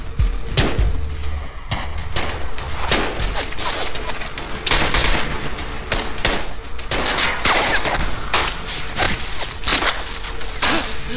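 Heavy gunfire rattles nonstop, with dense bursts of shots and loud thuds overlapping for the whole stretch, close and harsh.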